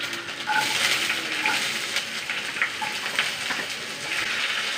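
Onion sizzling and frying in hot oil with mustard seeds, cumin, dried red chillies, curry leaves, garlic and green chillies, a steady close crackle with stirring scrapes and a few brief tonal clinks.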